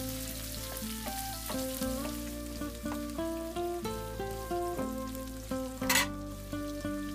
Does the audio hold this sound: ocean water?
no